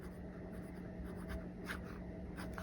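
A TWSBI Go fountain pen with a broad nib scratches steadily across paper, a soft continuous close-up writing sound over low background hum.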